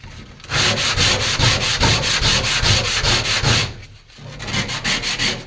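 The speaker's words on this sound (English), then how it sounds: "I'll get this sanded out" Loud, close abrasive strokes repeat in a steady rapid rhythm while trunk metal on a 1966 Ford Galaxie 500 convertible is sanded, with a brief pause before sanding resumes.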